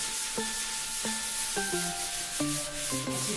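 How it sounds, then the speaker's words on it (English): Bar Keepers Friend cleanser is scrubbed over a wetted bathtub surface, a continuous gritty rubbing that runs beneath a sequence of clear, bright musical notes. "And scrub again."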